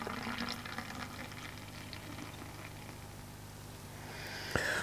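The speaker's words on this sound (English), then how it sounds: "I'm going to give this an aggressive pour to see if I can get any type of head out of this whatsoever." Cotleigh Brewery Old Steamer beer poured aggressively into a glass, a steady fizzing, gurgling stream that foams continuously at close range, ending with a sharp clink of glass.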